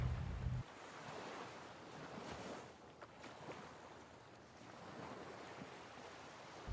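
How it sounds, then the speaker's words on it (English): Ocean waves wash steadily in the background, a soft, continuous surf hiss with gentle swells and no voices. "I'm such a sucker for hearing like waves and stuff in the background"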